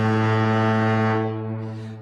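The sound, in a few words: foghorn sound effect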